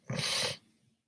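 A single sharp sneeze, close and fairly loud, bursting out briefly and then trailing off into quiet breathing.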